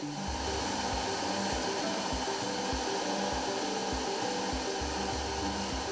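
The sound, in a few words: sanding machines smoothing flip-flop sculptures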